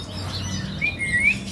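Tame songbirds at a bird market giving thin, high chirps and a brief rising whistle, close by over a low background hum, with no talk.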